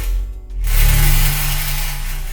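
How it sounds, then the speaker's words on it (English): A friction mallet dragged over a sizzle cymbal gives a dense, harsh, hissing roar that swells after a brief dip and holds steady and loud, with a low growl underneath. "Here's a sizzle cymbal."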